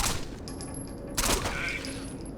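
Gunfire in Rainbow Six Vegas 2 as a SWAT team shoots through thin wood, plaster and metal cover: a few sharp, fairly quiet shots with one stronger burst in the middle, over a low game background.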